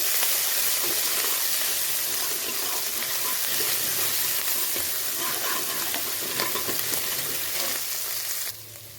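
Finely grated ginger sizzles in a hot pan, a loud, close, steady crackling fry with scraping stir strokes throughout and a quieter final second.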